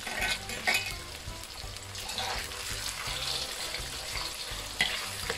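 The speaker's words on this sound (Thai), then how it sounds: "ให้เขาเดือดประมาณนี้เวลาเราทอดเนี่ยให้ใช้ไฟกลางๆค่อนข้างแรงนะคะ" Marinated pork fries in hot oil over medium-high heat, giving a dense, continuous crackling sizzle with occasional sharper pops and bubbling, close up and without talk.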